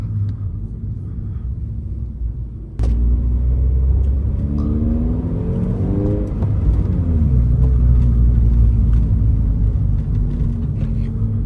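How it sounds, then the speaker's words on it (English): A Toyota GR86 or Subaru BRZ drives past with a loud, steady exhaust rumble that rises and falls through rev changes, with no distinct pops or burbles standing out. The car sounds close and continuous throughout, with no talk. "every time I downshift, it just pops"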